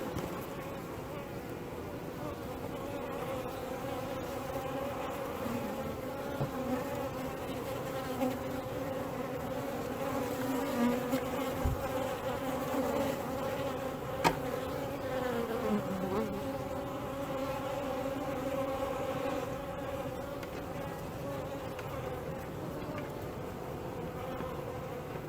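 A continuous drone of many honeybees buzzing close by, steady and dense throughout, with faint background noise and no speech.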